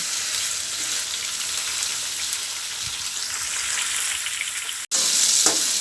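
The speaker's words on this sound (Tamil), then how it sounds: "கத்திரிக்காய் எண்ணெயில் வதங்கிறத வச்சுட்டேன்" Eggplant pieces sautéing in hot oil on high heat, a loud continuous sizzle and crackle with a short cut near the end before the frying resumes, no talking.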